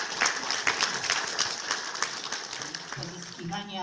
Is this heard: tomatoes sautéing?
no